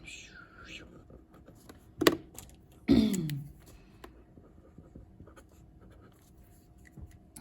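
A pen draws a graph curve on paper with two quick scratchy strokes, one up and one down, close and distinct against a quiet room.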